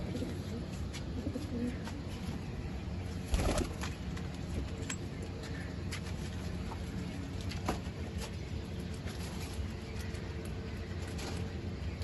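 Pigeons, including racing pigeons, coo softly and repeatedly nearby, with a brief burst of wing flapping partway through and light scuffling in the background.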